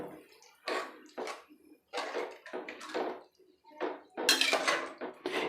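A spoon stirs tomato bath with roughly chopped coriander and mint in a pan, making irregular clinking and scraping bursts against the metal, close and fairly quiet, with short pauses between strokes.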